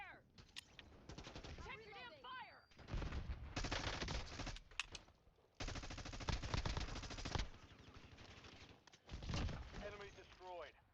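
Bursts of rapid video game gunfire in a battle royale match, loud sustained volleys broken by short pauses, with players talking over the shooting.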